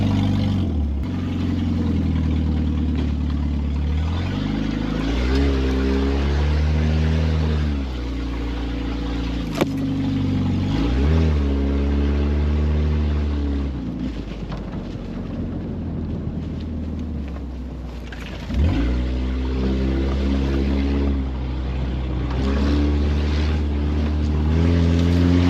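An off-road Pontiac Fiero engine runs and drives close by, its loud, rough drone rising and falling with throttle and dipping briefly twice, with wind buffeting the microphone throughout.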